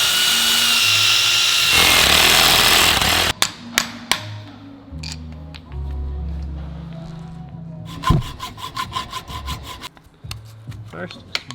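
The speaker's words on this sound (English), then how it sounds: "Next up we're gonna drill these out, 2 bushings." A power drill drills out bushings on an E36 car, whining and grinding loudly for a few seconds, followed by scattered clanks and clicks, then another short burst of rapid drilling.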